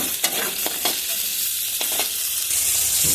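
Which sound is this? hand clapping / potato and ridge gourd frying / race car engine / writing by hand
potato and ridge gourd frying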